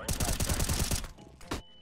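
Rapid bursts of gunfire from a first-person shooter game rattle loudly and densely for about a second, then trail off into a few scattered shots.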